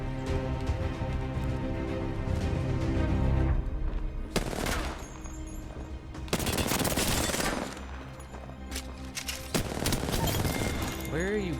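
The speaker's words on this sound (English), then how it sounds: "That guy just tried to shoot at me through the ground." Rapid automatic gunfire rattles in Apex Legends, bursts of shots separated by quieter gaps and small blasts, with speech mixed in.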